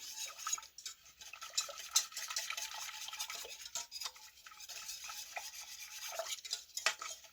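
Keto caramel stirred in a pan, a steady, close run of soft scraping and light metallic clinks as sugar and butter chunks are worked around, with no voices.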